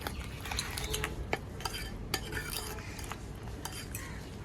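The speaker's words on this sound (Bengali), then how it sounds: "একটা চামচ দিয়ে মিক্সচারটা খুব সুন্দর করে নাড়িয়ে নিব" A spoon stirs a thick ice cream mixture of milk, biscuit and sugar, giving steady scraping and soft clinks against the bowl, with a few sharper taps, close and alone without talk.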